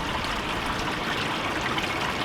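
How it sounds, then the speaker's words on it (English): A waterfall close to a beach, heard as a steady, dense rush of falling water that holds even and unbroken throughout, with no voices. "We've got the waterfall over there to pull from."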